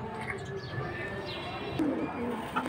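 Soft coos and chirps of high-flying pigeons in a flock, Silver, Bezi and Pankhi breeds, set against a busy background murmur of voices at a pigeon sale.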